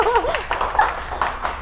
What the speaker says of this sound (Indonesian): beri tepuk tangan lagi dong